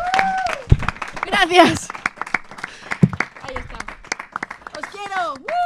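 Theatre audience clapping in scattered, uneven bursts of sharp individual claps rather than a dense roar, with voices speaking and exclaiming over and between the claps.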